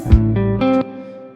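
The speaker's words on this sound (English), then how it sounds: "place it every 2 16th notes, so every 8th note, and we get something that sounds like this." Programmed electronic hi-hats tick steadily on every eighth note alongside other layered synth tones in a home-studio jam track, brief and loud with no talk over them.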